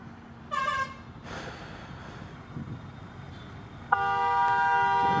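Road traffic in an Indian city, with a horn tooting briefly early on and a long, loud horn blast starting near the end and holding steady over a low rumble of passing vehicles.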